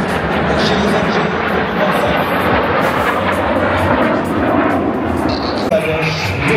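Aerobatic propeller airplanes fly in formation at the La Ferté-Alais air show, with one plane inverted and two on knife-edge. A loud, sustained engine roar fills the scene as an announcer talks over it.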